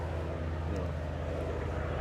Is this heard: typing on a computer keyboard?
no